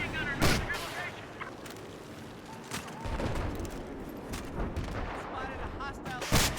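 Gunfire in a Battlefield multiplayer match: sharp, scattered shots and bursts at varying distances, with game voice callouts mixed in between.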